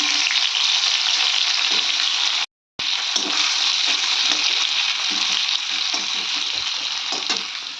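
Raw and ripe tomatoes hiss and sizzle loudly in a hot pan, with a brief drop-out partway through and scattered scraping stirs, close up and without talk.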